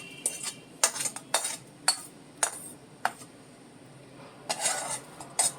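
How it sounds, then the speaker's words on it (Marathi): Sesame seeds being dry-roasted in a pan, with a metal spoon scraping and clinking against it in about a dozen short, sharp strokes, close and fairly quiet, with no talking. "आता हे परत व्यवस्थित आपल्याला भाजून घ्यायचं आहे"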